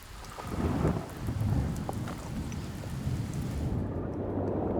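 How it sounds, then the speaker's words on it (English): Heavy tropical rain over the Pacific pours steadily with deep rolling rumbles of thunder underneath, loud and close, fading slightly toward the end. "By the time the next tropical downpour arrives"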